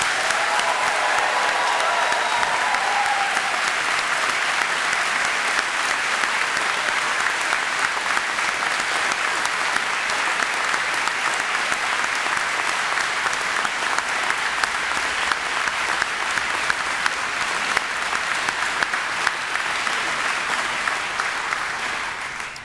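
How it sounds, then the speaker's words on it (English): Sustained applause from a large audience at a university summer graduation ceremony, steady and dense clapping throughout with a faint voice near the start. "Let's give them a real round of applause."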